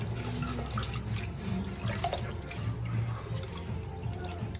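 Half a kilogram of mutton pieces is rinsed under a running kitchen tap, with a steady, fairly soft splash of water and small clinks of the meat and vessel throughout.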